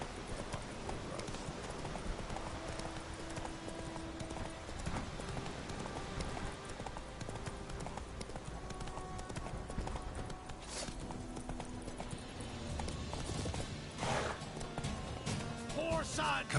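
Roach the horse clip-clops steadily in Witcher 3, hooves beating a continuous trotting rhythm beneath background game music and a voice talking to the horse.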